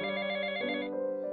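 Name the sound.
mobile phone ringing, story sound effect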